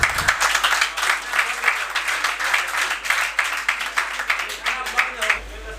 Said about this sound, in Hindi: तालियां तो बजाएं।